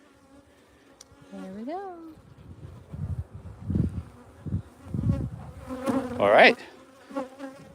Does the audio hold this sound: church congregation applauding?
no